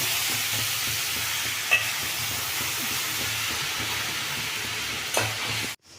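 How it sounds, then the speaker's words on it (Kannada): Greens tempered in a hot pan for a horse gram and greens bassaru crackle and hiss loudly and continuously, with scraping stirs mixed in before the sound cuts off abruptly. "ಇದನ್ನ ತಿರುಸ್ತಾ ತಿರುಗಿಸ್ತಾ ಇದ್ದೀನಿ"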